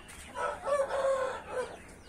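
A rooster crows once nearby, a drawn-out cock-a-doodle-doo rising and trailing off over about a second and a half, fairly faint against a quiet yard.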